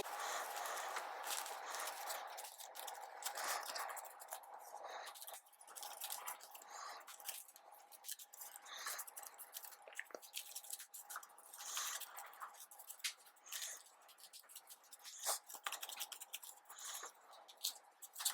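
Soft, dense riffling and flicking of cards being shuffled, a continuous papery patter with small ticks, close and fairly quiet, no voices.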